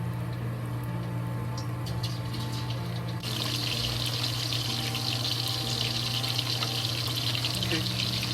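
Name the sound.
pork slices deep frying in hot oil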